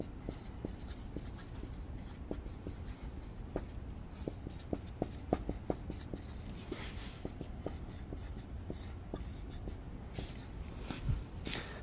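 A pen scratches steadily across paper while equation terms for a control-systems partial fraction expansion are written out by hand, giving continuous close strokes punctuated by small taps, with no talking.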